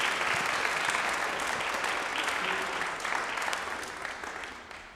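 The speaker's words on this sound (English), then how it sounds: "We can applaud." An audience at a school National Honor Society induction and service awards ceremony claps steadily in a full, even roar that gradually fades toward the end.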